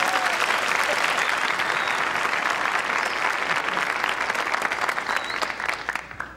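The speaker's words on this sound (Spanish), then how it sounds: "un aplauso para él, por favor" A room full of people claps steadily for several seconds, a dense, even applause that tapers off near the end.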